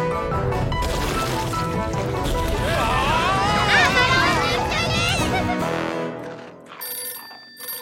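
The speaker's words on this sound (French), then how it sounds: "Quelqu'un peut répondre au téléphone?" A telephone rings in an animated children's cartoon, Ben and Holly's Little Kingdom: a short electronic ring near the end, following busy voices and music.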